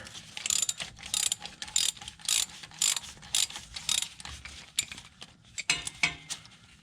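A ratchet clicking rapidly as it turns nuts on a transmission mount of a 1989-1996 Nissan 300ZX, bursts of fast ratcheting separated by short pauses, close and fairly quiet.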